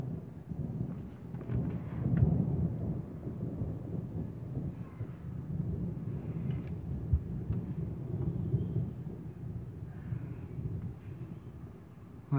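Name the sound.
thunder rumbling from an approaching storm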